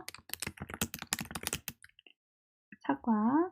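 A computer keyboard clatters in a quick, close burst of typing for nearly two seconds, then falls silent before a short spoken voice comes in.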